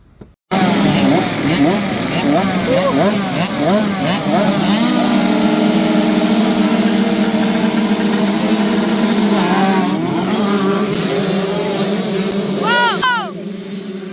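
Motocross motorcycles roar loudly and continuously as they race at MC Hoxberg, engines revving and shifting pitch in overlapping waves, with some bikes passing close by.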